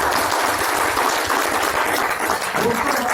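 Dense, steady applause from a large crowd, continuous and loud throughout with no pauses.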